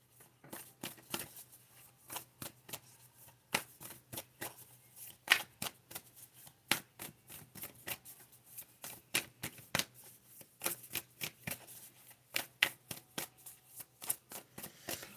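A deck of oracle cards is shuffled by hand, giving crisp, rapid riffling snaps in uneven bursts. It is fairly quiet and close, with no voices.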